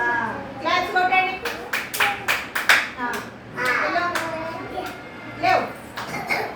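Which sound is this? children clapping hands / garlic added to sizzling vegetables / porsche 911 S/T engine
children clapping hands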